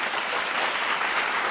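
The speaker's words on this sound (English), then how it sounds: "A round of applause for her." A school quiz competition audience gives a brief, even round of applause for a new team member, a short burst of dense clapping at moderate loudness.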